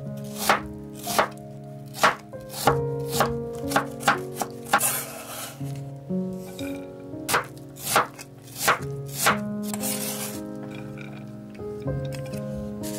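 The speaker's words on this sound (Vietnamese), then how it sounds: "Rồi xắt hạt lựu nhỏ như vậy." A knife dices peeled jicama into small cubes, producing a long run of crisp, fairly rapid chops against the board, close and clear over light background music.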